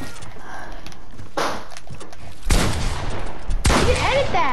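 A few loud gunshots ring out in a Fortnite-style video game fight, sharp blasts spaced about a second apart over a steady background, with a voice briefly audible.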